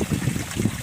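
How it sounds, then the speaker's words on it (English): Water cascading from a homemade pond filter waterfall about 50 centimetres high, a loud continuous splashing rush with a churning low gurgle, close by and steady, with no talking. "nice big waterfall at 50 centimetres"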